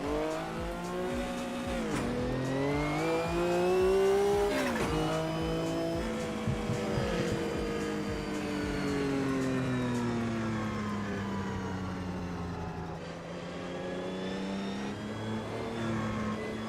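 Race car engine in the Automobilista 2 sim racing game, revving steadily up and down through gear changes for the whole stretch, loud and continuous with shifting pitch and occasional tire noise, no talking.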